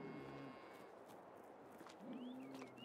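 Cows in Farming Simulator 22 give a low moo near the start and another a bit later, fairly faint, over light farmyard background and a few soft chirps.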